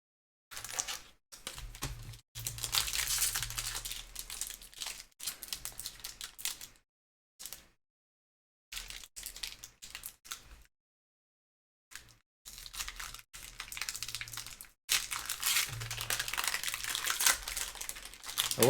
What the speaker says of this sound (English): I will say the pack crinkling noise is actually somewhat therapeutic